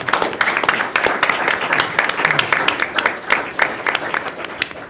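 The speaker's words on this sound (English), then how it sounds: "I just want to take a moment to give a round of applause and thank him for that." Steady applause from a room at a school board of education meeting, many hands clapping densely and loudly for about five seconds, with no talk over it.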